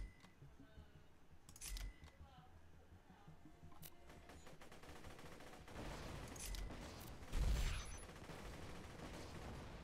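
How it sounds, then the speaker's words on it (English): Scattered bursts of machine gun or assault rifle fire from the video game Borderlands 2, mostly quiet and moderate, with a louder cluster of shots near the end and some faint game voices. "I go through so many bullets using this machine gun, or this assault rifle"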